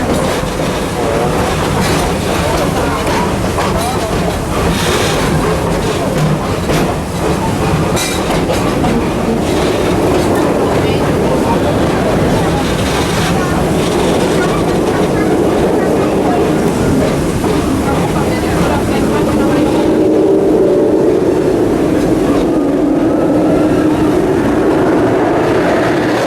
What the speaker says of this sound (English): So when in motion, it creates a loud roaring.